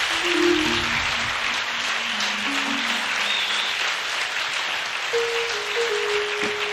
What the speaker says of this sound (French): C'est la prophétesse Yao Aya Naomi que je vous demande d'applaudir.